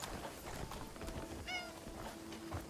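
A cat in the Crimson Desert video game gives a short meow midway, faint against soft ambient game sounds and light clopping hoofbeats.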